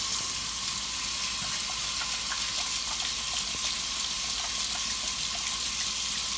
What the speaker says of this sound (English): Next, turn on the water and feel it out to make sure that it's warm.